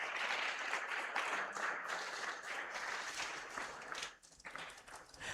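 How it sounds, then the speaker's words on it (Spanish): Church congregation applauding loudly and steadily, a dense wash of clapping that dips briefly near the end before picking back up. "Dale un fuerte aplauso al Señor"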